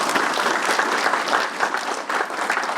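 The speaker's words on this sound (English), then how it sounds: "let's give them one more big round of applause." An audience at a tourism awards luncheon applauds steadily, with dense, sustained clapping from a sizeable crowd and no voices over it.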